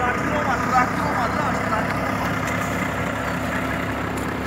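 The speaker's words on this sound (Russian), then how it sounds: "Ну, приехал, приехал трактор." A tractor engine rumbles steadily at an idle-like drone, arriving to tow a stuck truck that sank through the ground, a continuous low mechanical hum with faint voices in the background.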